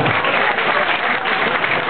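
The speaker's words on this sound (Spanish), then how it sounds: "Fuerte, fuerte el aplauso para Juan Fonseo" Loud, continuous applause from an audience at a church gathering honoring a tango performer, dense and unbroken clapping filling the space.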